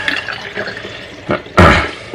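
Developer liquid sloshes and drips softly, then a sudden, loud gush of pouring splashes into a film developing tank close by for about half a second.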